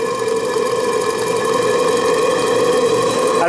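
A live steam engine on an RC steamboat, fed by a gas-fired boiler running short of pressure, chuffs in a fast, even mechanical rhythm, loud, close and steady throughout with no voices.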